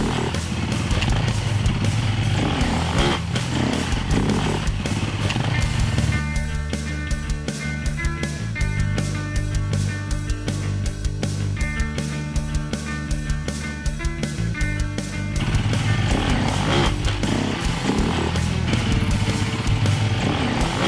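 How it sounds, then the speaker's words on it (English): An enduro motorcycle engine revs and labors as the rider climbs up and over a large obstacle, a continuous close buzzing drone rising and falling in pitch with throttle pulses and no talk. "we've seen the proper de-weighting to get that back wheel to the top of the obstacle"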